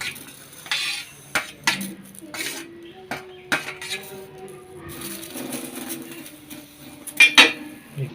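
Green chilies frying in a pan for a Chittagong dried churi fish bharta, heard as close clinks and scrapes of a utensil against the pan with soft sizzling beneath, in irregular bursts with no talk.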